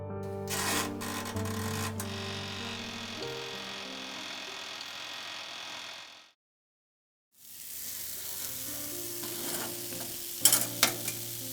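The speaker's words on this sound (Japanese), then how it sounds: "こちらの面も180度で3分ほど表面に焦げ目がつくまで焼いていきます。" Food spread with fermented plum miso and topped with shiso leaves sizzles as it grills at 180 degrees, a quiet, steady crackle under a faint tonal hum that drops to silence briefly before resuming with a few sharper clicks.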